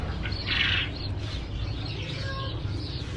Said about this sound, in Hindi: ये तो बहुत प्यारा तोता है।